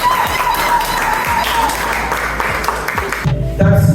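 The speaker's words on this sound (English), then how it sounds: "clap for them" A group claps for a business team's presentation, producing dense, steady applause for about three seconds before it breaks off abruptly.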